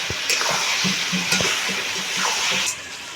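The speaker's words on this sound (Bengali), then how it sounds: "আবারও আমি বেশ কিছুক্ষণ এই মশলাগুলো দিয়ে মাংসটা কষিয়ে নেব।" Chicken meat frying with spices in a pan, a steady close sizzle broken by scattered scrapes and stirring clatters, with no talk.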